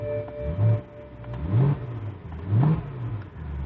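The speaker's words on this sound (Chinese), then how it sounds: "好，现在发动了哈，有听到声音吗？" A used four-door BMW E90 M3 engine runs nearby, rising in three distinct rev blips over a low idle rumble.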